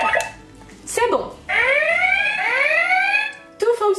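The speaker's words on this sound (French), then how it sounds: "Quand vous entendez l'alarme, ça veut dire qu'il faut vous immobiliser" Electronic alarm from a Power Quest game vest, a warbling siren-like tone of rising and falling sweeps lasting about two seconds, close and loud, with short sounds before and after.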